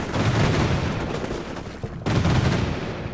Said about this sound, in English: I just saw one of them fire what looks like a rifle grenade